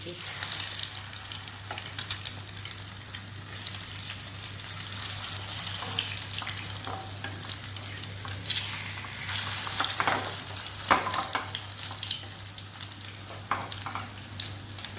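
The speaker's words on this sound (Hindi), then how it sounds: "दूसरी तरफ से भी ये देखें अच्छी तरह ये फ्राई हो चुके हैं।" Chicken shami kababs fry on low heat in a pan, a steady soft sizzle with occasional crackles and pops over a low hum.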